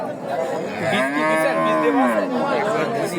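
A young heifer, about eighteen months old, moos loudly at a busy rural livestock market in Bhangura, one long drawn-out call rising and falling across the middle of the clip, with crowd chatter and market noise behind it.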